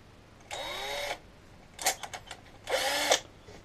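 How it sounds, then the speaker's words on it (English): A small power drill whirs in two short high-pitched runs, with brief stuttering bursts between them, close and clear. "which is absolutely a brand new drill, never been used"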